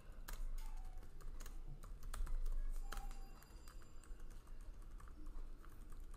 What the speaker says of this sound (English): So I just typed in my heading and I'll type some text.